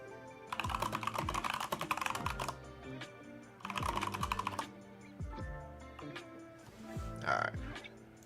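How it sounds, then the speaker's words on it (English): Close keyboard typing comes in two fast bursts of clicking, separated by a few scattered keystrokes, with a voice speaking briefly near the end. "Sorry, I'm typing some stuff here"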